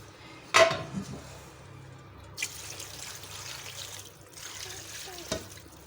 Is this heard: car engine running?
no